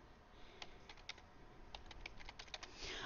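Someone types on a computer keyboard, entering a word into a spreadsheet cell: scattered, light key clicks come in a short irregular burst, quiet and close against soft background hiss.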